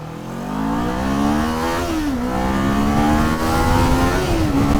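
A Kawasaki Z400 motorcycle engine revs up loudly, its pitch climbing, dipping between gear changes, then rising again in a sustained, close-up roar.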